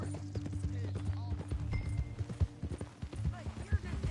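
In Red Dead Redemption 2, a horse's hooves clip-clop in a steady rhythm beneath a voice as characters talk.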